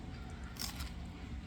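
A close, crisp crunch from a bite of crispy roast pork at a BBQ restaurant, a single brittle crackle standing out over low room background.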